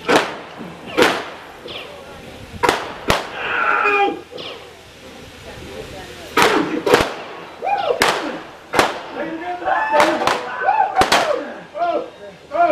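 Sharp gunshots crack out one at a time at irregular intervals, loud and close, with excited shouting voices between the shots.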